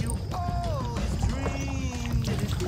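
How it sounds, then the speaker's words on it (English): Kayak paddling on open water, with soft rhythmic paddle splashes and dripping over steady wind and water noise throughout, plus faint whistling bird-like tones. "We are kayaking today"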